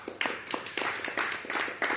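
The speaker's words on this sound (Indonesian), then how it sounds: "Tepuk tangan." An audience claps in short, even bursts of sharp hand claps, fairly faint and heard on their own without speech.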